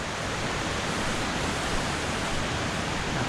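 Small waterfall near Guadalupe, Colombia, a steady broadband rush of falling water that holds even and close, unbroken for the whole stretch, with no voices.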